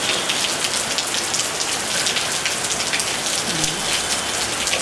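Steady heavy rain pouring down during an outdoor video shoot, a dense continuous hiss of drops with no pauses, loud and close throughout.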